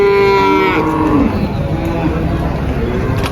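Limousin bulls at the Muntilan cattle market give a loud, close moo at the start, then the market carries on with a busy background hum and distant chatter.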